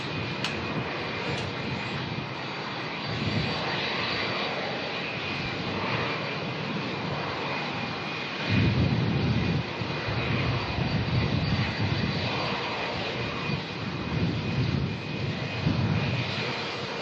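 A Jetstar jet airliner departs Melbourne Airport with a steady, distant engine roar that swells and grows louder about halfway through, with no talking.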